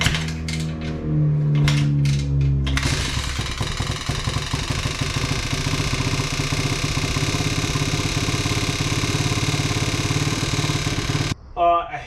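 A pit bike engine fires up after a stator replacement: a person talks briefly over quiet clicks, then the engine catches and revs loud and close at a steady buzzing idle before cutting off abruptly near the end.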